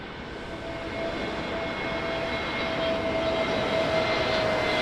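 An aircraft at Lisbon Airport on runway 02 gives a steady, broad engine roar that builds slightly over several seconds, with a thin whining tone running through it, heard from a distance and continuous throughout.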